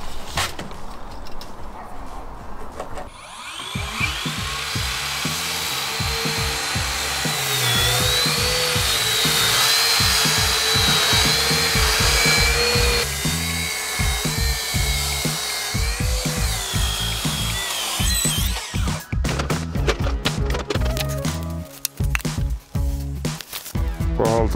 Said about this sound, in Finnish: ruvetaan sahailemaan uretaanilevyä, niin siitä sitä valkoista purua sitten lähtee paljon